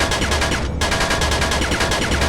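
Sustained rapid enemy gunfire pounds a ship in the indie space shooter Astrokill, a dense continuous barrage with one brief break before the volley resumes, loud and close.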